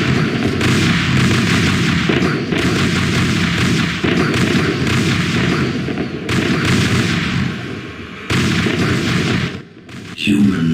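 Battlefield gunfire and artillery fill a War of the Worlds battle scene as humans open fire: dense, loud bursts of shots and heavy booms roll on continuously, broken by a few brief dips and near-silent gaps.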